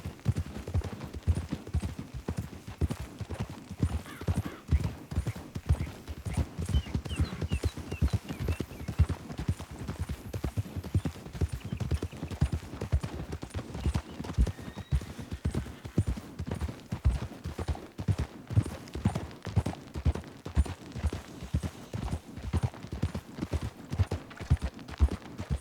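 Horse hooves clip-clop at a steady walking rhythm in Red Dead Redemption 2, close and continuous for a long stretch with no voices over them.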